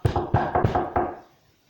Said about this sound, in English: there was a second knock at his front door